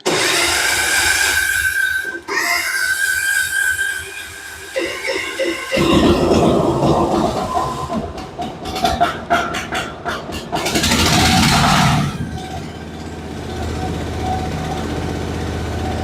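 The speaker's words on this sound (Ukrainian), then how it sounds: "Запустили. Отакий холодний пуск." A mini excavator's diesel engine is cold-started at about minus 7 to minus 8 degrees using the decompressor: a loud, close run of rough cranking and clattering that catches and settles into a steady running drone.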